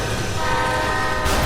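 In a video game, a loud, sustained train horn blares continuously at close range, its steady tone holding throughout with rumbling train noise beneath it.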